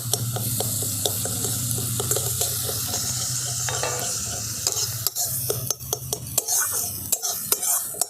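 Cashew and melon seed paste goes into spices frying in a pan, with a continuous sizzle and repeated scraping stirs and clinks of a spoon against the pot, growing busier toward the end.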